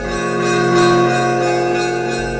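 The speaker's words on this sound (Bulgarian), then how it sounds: "първо клепалото, а после и този камбанен звън." Monastery bells ringing for the morning service, a sustained loud metallic tone with rich overtones that hangs and resonates without a break.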